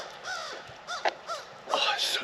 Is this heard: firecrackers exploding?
no